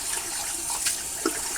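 Water splashed onto a face during a wet shave at a bathroom sink, a soft continuous rush of running tap water with a couple of brief, slightly louder splashes, close and alone.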